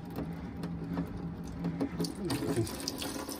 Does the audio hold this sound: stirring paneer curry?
no